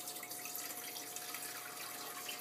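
Water pours steadily in a faint, even stream over eight tea bags while making sweet tea, a soft continuous splashing hiss with no talk.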